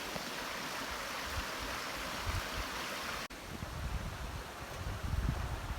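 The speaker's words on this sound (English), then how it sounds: "The waterfall." A waterfall at the end of a canoe portage in the Temagami backcountry rushes as a steady broadband roar, heard close and continuous, with a brief break partway through and gusty wind buffeting the microphone.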